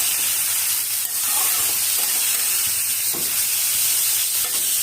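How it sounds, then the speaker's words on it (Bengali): Leafy greens fry in a pan with onion and chili, a loud, dense, steady sizzle and steamy hiss with faint stirring scrapes and small crackles, close up and continuous. "এখন শাকটা ভেজে নেব।"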